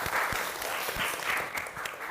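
Applause from a classroom group during an Indonesian teacher-training lesson, a short burst of many hands clapping at close range with sharp irregular claps and no talking.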